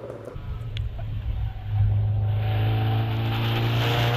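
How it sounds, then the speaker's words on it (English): A Porsche 924 race car climbs the Prescott hill climb course, its engine note loud and close, building from a rough rumble into a strong, steady high-revving drone under acceleration. "Andrew Meredith in the Porsche 924."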